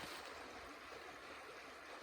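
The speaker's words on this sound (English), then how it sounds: "I've come to Richland Creek, and this is the official crossing." Richland Creek flowing at the official crossing of the Ozark Highlands Trail, a steady, soft wash of running water heard alone, even and continuous.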